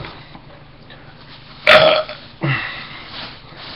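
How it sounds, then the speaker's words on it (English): A single short burp from a man drinking beer, loud and close, rising out of a quiet room with a softer follow-up gulp. "that was a little bitty burp"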